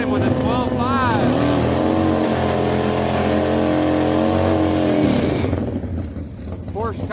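A Porsche drag racing down the strip at Houston Raceway Park, a loud sustained engine roar with rising pitch sweeps that holds for several seconds and then fades, with a voice talking over it.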